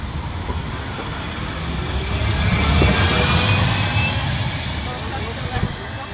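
A Metrolink tram pulls away from Deansgate-Castlefield toward Altrincham, a steady rolling rumble with faint high wheel squeal that swells in the middle and eases off, heard alone at moderate distance.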